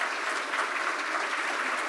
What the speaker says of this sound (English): Would you give them a round of applause,